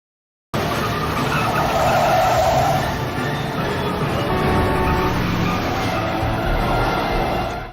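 A car skids with loud, sustained tire squeal during a reckless street chase, the screech running continuously and close with engine noise underneath.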